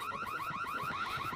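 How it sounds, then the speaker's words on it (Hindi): Car horn sounding in the mobile horror game Scary Stranger 3D, heard as a repeating electronic wailing tone that rises and falls in quick regular cycles, steady and fairly quiet, with no talking. "ये गाड़ी का हॉर्न बजाओ"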